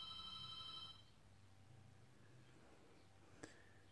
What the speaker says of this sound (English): Sorry, this phone's always ringing.